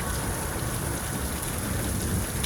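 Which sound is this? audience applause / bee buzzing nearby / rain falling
rain falling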